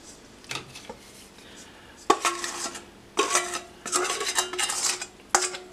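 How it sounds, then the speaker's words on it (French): Clementines drop and clatter into a metal saucepan in several bursts, with soft knocks and scraping between them. "Je vais les mettre dans une casserole."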